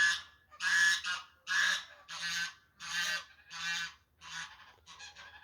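Several loud honks from geese come in a steady series, close and insistent, each call separated by a short gap, with no talking.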